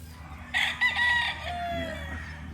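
A dark Kelso Raptor Sweater Boston Roundhead rooster crows once nearby, a loud strained cock-a-doodle-doo that rises and trails off, over faint background bird and farm noise.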